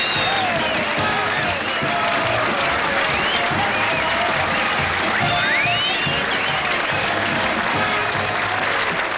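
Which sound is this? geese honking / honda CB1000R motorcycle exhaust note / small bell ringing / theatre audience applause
theatre audience applause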